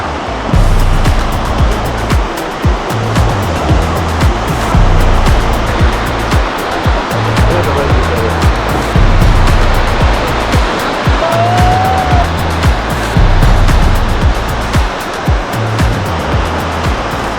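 Sea waves on the coast at a coastal rowing sprint surge and break in loud, rolling pulses every couple of seconds, with heavy wind rumble throughout and a short squeak partway through.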